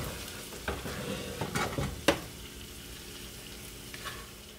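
Okra being stirred into hot oil with red chilli and spices in a pan, a low steady sizzle broken by several scraping stirs and one sharp clack of the spoon against the pan, close and alone without talk.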